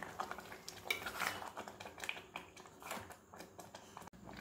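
A spoon stirs a thick, sticky sugar and raw mango mixture in a pan, giving soft repeated scraping and clinking against the metal, close and fairly quiet, with no talk.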